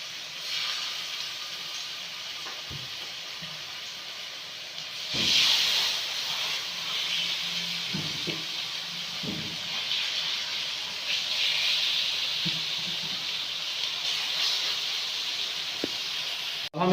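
Marinated chicken for shawarma sizzles on a grill pan with a steady, close hiss that surges louder as pieces are laid down, broken by a few soft clunks and scrapes.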